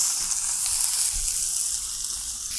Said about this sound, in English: I am going to just flip these, get the fat on these.